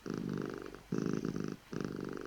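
A cat purrs steadily up close in long rhythmic rumbles, with brief pauses for breath between them.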